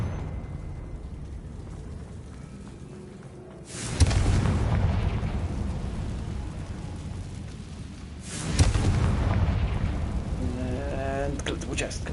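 Two booming spell blasts from the Confringo curse in Hogwarts Legacy, each a sudden loud burst that rolls off into a crackling rumble, spaced several seconds apart over steady game ambience.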